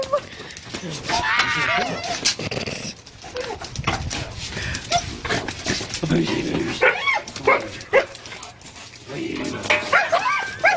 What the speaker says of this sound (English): Look at how excited the dogs are that he came home.